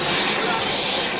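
A rescue helicopter arrives over the desert during the Dakar rally, a loud, steady roaring engine and rotor wash filling the short stretch without pause.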